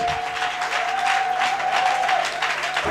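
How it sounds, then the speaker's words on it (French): A congregation claps throughout a Tuesday church service at a Christian assembly in Abidjan, a thick continuous wash of hands with a sustained tone from music or a voice running beneath it. "Applaudissez pour sa présence."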